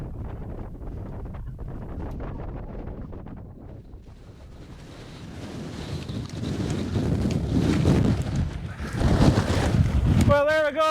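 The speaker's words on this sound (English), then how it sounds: "As you can tell, it's really windy up here." Strong wind roars and buffets the microphone on the summit of Carn Bhac, a remote Munro near Altanour in the Scottish highlands, rising into heavy, rumbling gusts that fill the whole sound without any voice.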